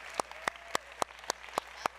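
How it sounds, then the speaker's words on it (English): Steady, evenly spaced claps from a small audience at a conference session on private finance for climate adaptation, fairly quiet and sharp, about three or four per second, with no crowd roar behind them. "Big applause."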